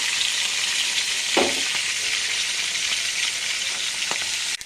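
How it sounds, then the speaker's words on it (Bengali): Fish sizzles steadily in hot oil, a close, continuous crackling hiss broken by a few soft scrapes. "তো তোমরা দেখতেই পাচ্ছ মাছটা ভাজা হয়ে গেছে"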